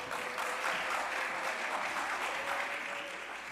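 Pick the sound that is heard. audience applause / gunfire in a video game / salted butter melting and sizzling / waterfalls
audience applause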